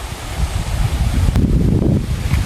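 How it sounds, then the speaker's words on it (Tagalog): A breeze blows outdoors by a stream among tall pili trees, buffeting the microphone with a steady low rumble and airy rustle and no talking. "Dinig na dinig nyo naman yung simoy ng hangin."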